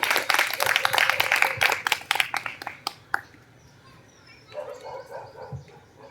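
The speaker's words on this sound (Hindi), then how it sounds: "जोरदार तालियां हो जाए मिस सपना के लिए।" A poetry-recital audience at a democracy-themed kavi sammelan bursts into dense, close applause for about three seconds, which then thins out and fades into quiet room noise with a few faint voices.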